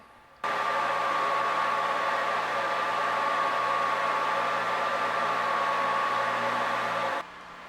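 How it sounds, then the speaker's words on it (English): A milling machine bores a tiny stop-pin hole with a 3/32 inch cutter: a steady, close, high spindle whine over broadband hiss starts abruptly, holds constant for about seven seconds, then stops. "a 3/32 inch cutter to bore the teeny little hole for the stop pin"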